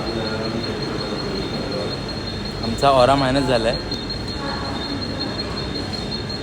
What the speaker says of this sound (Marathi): 1 मिनटं ट्रेन गेली बाई